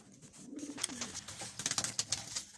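Pigeons coo softly inside a racing pigeon loft, low murmuring calls mixed with faint scuffling and light clicks, quiet and close with no talking.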